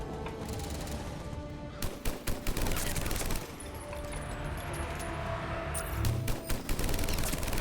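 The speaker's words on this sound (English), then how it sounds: "Yeah, this is a gun you have to fire from cover." Typhoon rapid-fire weapon in Mass Effect Legendary Edition, unleashing dense bursts of loud automatic gunfire in sustained volleys with brief pauses, a whirring mechanical edge, and booming impacts layered throughout.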